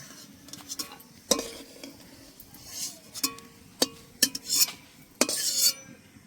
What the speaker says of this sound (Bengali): এবার কাজু বাদামগুলো দিয়ে দেব, লালচে করে ভেজে নেব।